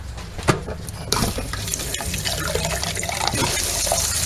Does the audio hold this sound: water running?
yes